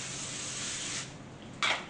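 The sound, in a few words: non-stick cooking spray being sprayed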